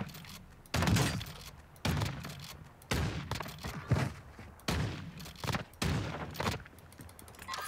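Repeated loud bursts of gunfire in the video game Warzone 2, roughly one every second, each sharp onset trailing off briefly, with no talking.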